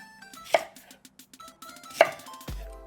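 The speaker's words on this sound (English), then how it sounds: "We're just chopping these up into relatively small pieces." Knife chops sweet potato into small pieces on a cutting board, a quick run of crisp close taps with two heavier strikes and a final thud.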